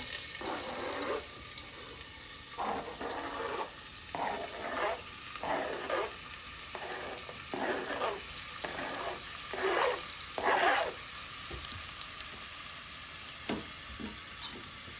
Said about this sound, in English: So that's my 1 onion. In it goes in a sizzle.